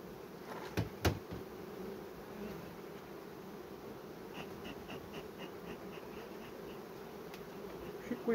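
Honeybees buzz at an opened hive, a continuous low drone with individual bees passing close by and some faint knocks from handling the frames, steady and fairly quiet.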